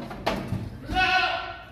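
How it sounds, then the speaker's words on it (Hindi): A goat bleats while goats are loaded onto a vehicle at a goat farm in South Punjab, Pakistan: one short, wavering, nasal cry after a thump, close by, with people talking nearby. "नंबर 2 ये बकरा जा रहा है माशाल्लाह जी"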